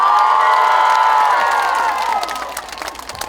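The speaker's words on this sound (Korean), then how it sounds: "그렇다면 다시 한번 박수와 함성!" An outdoor concert crowd gives a loud burst of cheering, screaming and applause, with shrill voices dominating before the noise gradually fades into scattered clapping.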